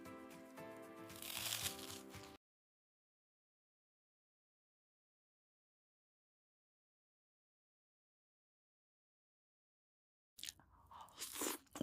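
Crunchy fried chicken drumstick, hot and coated in sweet and savory garlic sauce, being bitten and chewed up close. Two loud bursts of crisp crunching are split by a long stretch of silence.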